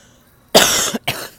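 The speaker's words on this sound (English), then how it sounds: "Excuse me, I got a cough." An adult man's cough, two close loud harsh bursts, the first longer and the second shorter after a brief gap, in a quiet room.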